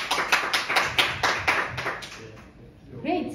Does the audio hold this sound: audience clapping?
yes